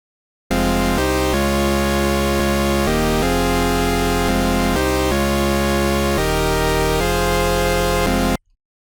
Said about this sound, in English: As you can hear, the synth is really basic.